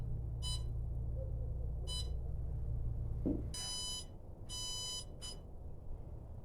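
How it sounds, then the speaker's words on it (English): Bursts of high electronic beeping in short groups from an oven controller finishing a 350-degree heat-treating run for O1 tool steel knife blades, sounding over a steady low machine hum that stops partway through. "as you can hear, we were beeping"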